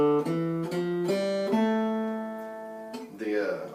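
An A natural minor scale played note by note as steady sustained tones, each step rising in pitch with a clean, tuner-like timbre, closing with a brief brighter flourish; close and clear, no talking.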